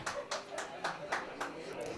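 Applause at a live Hindi quiz competition stage event, heard as a few soft separate bursts of clapping at a steady pace with faint voices in the background.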